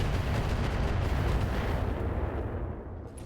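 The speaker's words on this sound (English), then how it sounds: "Firing a full salvo." A RogueTech mech unloads a full weapon salvo, a dense, continuous roar of overlapping blasts and booms that stays loud throughout before easing slightly at the end.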